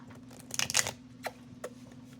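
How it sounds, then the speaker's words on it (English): A deck of cards being shuffled during a tarot-style pick-a-card love reading: a quick, close riffling burst followed by a couple of short, softer flicks against a low steady hum, with no talking. "I'm gonna shuffle this a couple more times"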